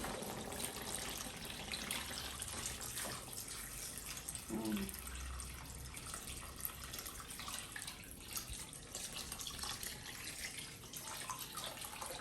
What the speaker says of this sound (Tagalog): Magdagdag na tayo ng tubig.